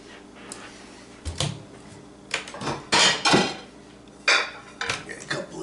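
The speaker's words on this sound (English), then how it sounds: "Dishes." Dishes, pots, pans and cutlery clatter in a home kitchen during cooking, with several bursts of clanking and scraping spread irregularly through the stretch, fairly close and moderately loud, with no talking.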